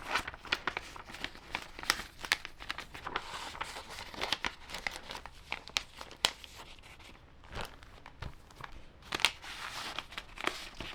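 Sheets of paper artwork, including copy paper, being slid into A4 plastic file sleeves, giving a steady run of close crinkling and rustling with sharper crackles and tearing-like scrapes at intervals.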